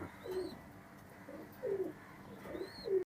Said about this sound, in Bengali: এই দুইটা আছে আমার গোল্ডেন কবুতর